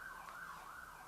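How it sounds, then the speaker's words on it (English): An ambulance siren wails faintly in the distance as it passes, a steady rising and falling tone heard alone. "And there goes an ambulance, I do believe."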